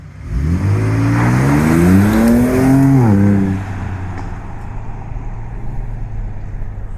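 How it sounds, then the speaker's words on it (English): A Ford Ranger Raptor pickup with a 3-litre turbocharged six-cylinder engine revs loudly, its note climbing through acceleration before easing off into a steady, lower cabin drone with no talking. "So, driving the Ranger Raptor."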